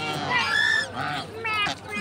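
Ducks give loud, nasal honking calls in several bursts close by, one after another with brief gaps.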